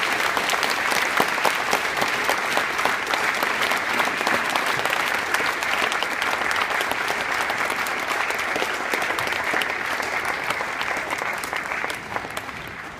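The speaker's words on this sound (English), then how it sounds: "give our 6th grade ACE Award recipients a round of applause" Sustained applause from a large school assembly audience, steady and dense clapping that carries on for the whole stretch before tapering slightly at the end.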